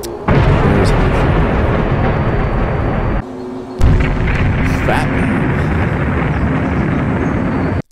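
A big bomb-blast sound effect roars as a loud, dense rumbling wall of noise, cuts out briefly, then surges again with a second boom and sustained roar before stopping abruptly.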